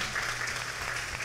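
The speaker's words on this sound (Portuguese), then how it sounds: "Nosso aplauso mais uma vez" Audience applause at an international folklore festival in Ceará for a folk dance group, a dense, steady clapping from a crowd that fills the brief moment without a break.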